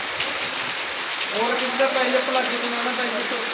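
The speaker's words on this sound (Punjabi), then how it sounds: "ਫੇਰ ਲੈ ਪਿਆ ਮੀਂਹ" Steady rain falls outdoors in a continuous, loud hiss, with a voice speaking partway through.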